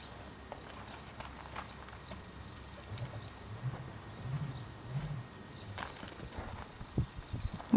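A calm Mérens horse's hooves clip-clop softly in a quiet setting, an uneven series of light, fairly faint steps heard alone without talk.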